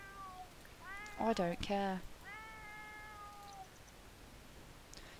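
Several cats meowing in The Sims 4, a ragdoll breed among them, with a cluster of overlapping mid-pitched meows followed by one longer drawn-out meow, heard under a brief spoken phrase.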